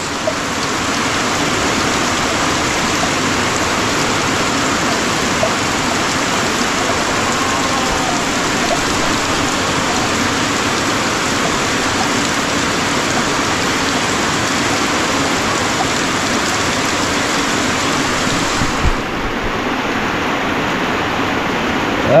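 Steady rain pours down in April as the first rain of the month, a loud, even hiss of drops hitting surfaces that holds unbroken for over twenty seconds with no voices.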